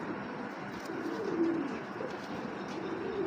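Pigeons, including a young bird and a female feeding chicks, coo in a steady low rumble of overlapping calls, with one slightly clearer coo partway through. No speech.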